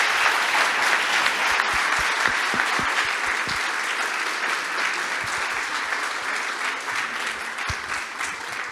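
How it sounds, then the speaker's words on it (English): Sustained applause from a conference audience after a plenary talk on extraterrestrial consciousness in Barcelona, a broad wash of clapping with a few sharper claps near the front, slowly easing in level toward the end. "let's give a big round of applause to Ross Coulthart for a fantastic talk"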